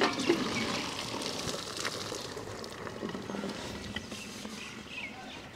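Water poured off freshly made village vermicelli boiled in a pot, a steady rushing splash that stays fairly loud and even for several seconds, with no talking.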